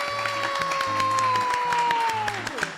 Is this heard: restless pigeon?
no